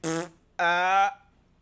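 A voice imitates a fart with two buzzing, drawn-out blasts: a short one, then a longer one after a brief gap, loud and close.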